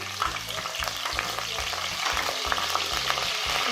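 Mustard seeds, cumin and curry leaves sizzling in plenty of hot oil for a green masala brinjal gravy, a close continuous crackle and hiss with sharp pops, under a faint rhythmic background hum, no talking.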